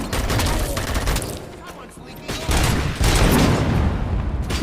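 Heavy gunfire, sniper shots among it, rings out in RoboCop: Rogue City, a dense run of loud overlapping shots and booms that swells and fades without a break.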